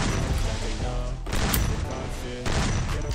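Loud, close gunfire in the Free Fire battle-royale game, rapid bursts in three dense stretches separated by short gaps, with game sound layered underneath.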